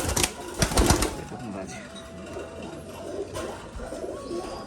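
A female pigeon coos close by among other Rajshahi pigeons, soft repeated rolling calls broken by a few sharp fluttering bursts, with someone talking over part of it.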